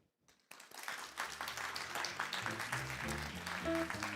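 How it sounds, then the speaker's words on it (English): Conference audience in Seoul breaking into applause, starting from near silence and swelling into a dense, sustained clatter of many hands clapping, moderately distant and growing louder toward the end. "Let us give a big round of applause to all participants."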